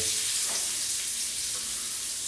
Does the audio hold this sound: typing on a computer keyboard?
no